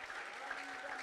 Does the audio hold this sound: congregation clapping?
yes